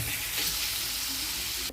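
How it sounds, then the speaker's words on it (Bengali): Chicken pieces fry and are stirred in a pan over medium heat, giving a dense, continuous sizzle with faint scraping, brief and without talk. "মিডিয়াম আঁচেই একে একটু ভালো করে কষিয়ে একটু ফ্রাই করে নেব"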